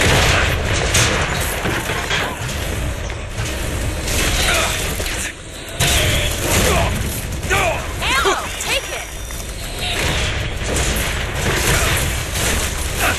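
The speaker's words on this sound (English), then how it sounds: "Who's shooting me?" Gunfire in the first-person shooter Bioshock Infinite, a dense, loud stretch of shots and mechanical clatter running throughout, with a brief dip near the middle and someone talking over the action.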